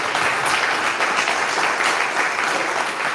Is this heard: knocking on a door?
no